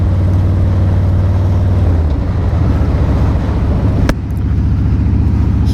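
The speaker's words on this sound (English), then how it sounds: "sound of that Two Brothers Racing exhaust" Harley-Davidson motorcycle fitted with a Two Brothers Racing exhaust, a deep throbbing engine rumble that loudly idles then shifts pitch as revs change, with wind buffeting the microphone.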